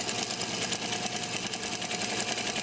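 A sewing machine stitches a non-roll elastic waistband, giving a loud, continuous, close mechanical whir with a fast, even rhythm and no pauses.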